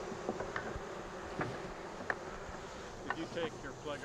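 Honey bees buzz densely around a hive, a continuous low drone with individual bees zipping past near and far, quiet and steady throughout.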